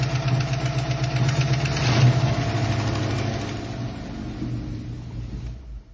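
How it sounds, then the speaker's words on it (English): A Ford Foxbody Mustang V8 idles close up with a rhythmic rumble and a light ticking tap running through it, the engine sound easing and fading near the end. "Never mind, there definitely is still a tapping noise."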